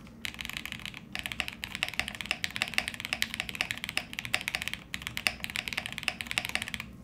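Quick, steady keystrokes clack on a Jer80 mechanical keyboard fitted with PBT keycaps, close and fairly quiet, a continuous run of typing with a couple of brief pauses.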